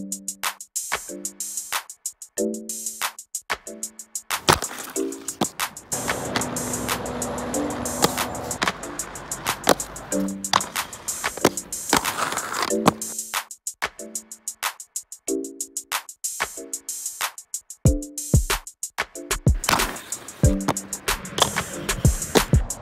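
Inline skates grinding on long, heavy anti-rocker frames, sounding as repeated scraping slides and clattering wheel impacts that come in bursts with short pauses, with one longer sustained grind in the middle and no talking.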